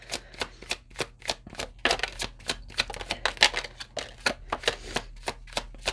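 Tarot cards being shuffled, a close rapid stream of crisp papery riffles and taps in an uneven rhythm, with no voices.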